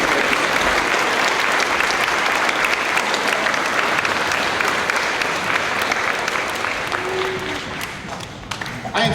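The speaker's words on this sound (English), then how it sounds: "let's give one more round of applause to Cody Yee." Loud, full applause from a school audience at an elementary school Veterans Day assembly, a thick sustained roar of clapping that tapers slightly near the end, with faint crowd voices mixed in.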